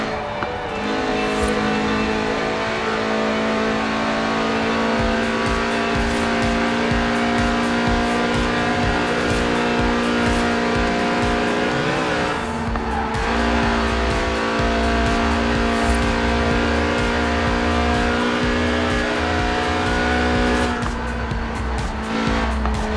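Lotus with a 1.8-litre engine revving to 8,000 RPM in the racing video game Forza Horizon 4, a continuous loud high-pitched engine wail with shifts and tire squeal, running alone throughout.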